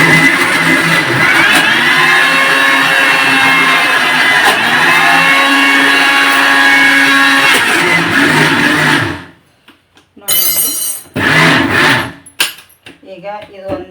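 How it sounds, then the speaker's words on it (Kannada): A kitchen mixer grinder (mixie) grinds with a loud, steady motor whine for about nine seconds, then cuts off, followed by a few short clattering bursts and pauses. "ಈಗ ಮಿಕ್ಸಿ"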